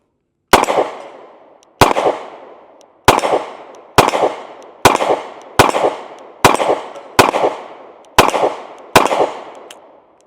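A Smith & Wesson Bodyguard 2.0 pistol fires nine sharp, loud shots at a brisk, slightly uneven pace, each crack trailing off in a short echo.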